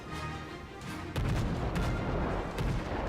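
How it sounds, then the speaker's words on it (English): US destroyer naval guns boom in World of Warships, with a heavy salvo hitting hard after a quieter stretch, then further rumbling shots close together. "you'll end up seeing US destroyers firing their guns basically constantly"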